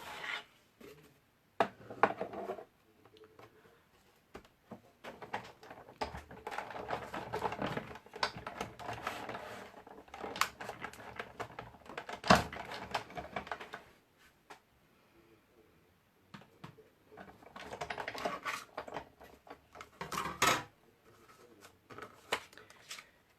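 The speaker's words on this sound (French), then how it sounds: "je vais découper 2 fois ce cœur" An electronic cutting machine cutting a paper heart makes intermittent clicking, scratchy passes and shuffling noises in several bursts with quieter gaps, fairly close.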